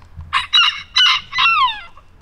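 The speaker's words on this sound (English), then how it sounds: "Oh, there's my chicken Goldie." A rooster crows loudly and close by in a backyard coop, its call broken into several bursts that slide downward at the end, with low clucking from chickens underneath.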